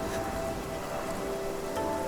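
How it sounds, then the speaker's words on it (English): Steady wind and rain from the video game Nikki Infinity make a dense, constant hiss with a faint tonal hum underneath and no voices. "Just a gust of wind and raindrops rushing in."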